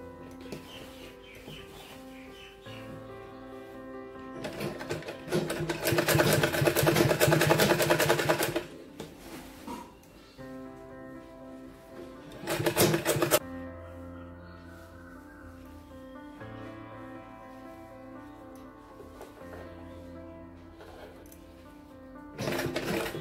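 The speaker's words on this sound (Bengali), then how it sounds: "এই কিনারা থেকে এবার আমি সেলাই করব।" Sewing machine stitching along the edge of a shirt collar, running in steady bursts with a loud, dense stretch midway and shorter runs before and after, with a faint hum between.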